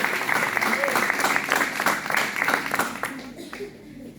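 A church congregation claps for the Lord, a sustained burst of applause from a crowd that holds steady for several seconds before tapering off, with voices mixed into the clapping.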